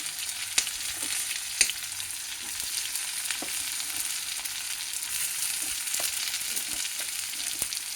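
Onions fry in a pan with a steady, even sizzle, close and moderately quiet, broken by a few faint clicks and taps of a utensil.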